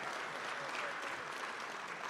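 An audience at a state government address applauds, steady dense clapping filling the room at moderate level and continuing unbroken throughout.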